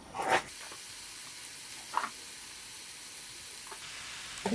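Marinated meat sizzling on a grill at a campsite, a steady frying hiss with a few sharper spatters and pops rising above it.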